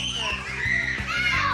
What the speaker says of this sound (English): It's everybody screaming at the same time.